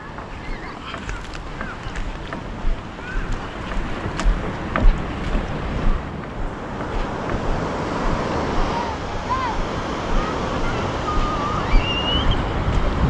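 A boat's engine hums under choppy ocean waves and gusting wind buffeting the microphone, with splashing water throughout.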